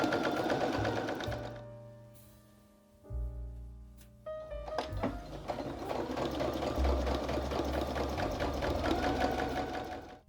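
A sewing machine stitching the center front seams of a midi dress, its needle chattering in rapid bursts with a short pause between runs, close and clear with no talk.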